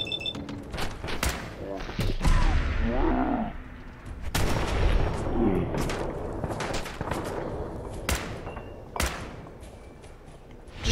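Gunfire in the video game Fallout 4, with bursts of sharp shots and heavy thuds in a busy firefight, someone talking over the shooting throughout.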